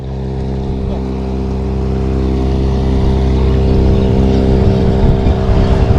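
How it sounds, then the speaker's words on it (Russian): Motorboat travelling on a river during a fishing trip, a steady droning engine hum that holds level and grows slightly louder as the boat draws nearer, with no voices over it. "А моторная лодка тоже назад вернулась. Прошла туда."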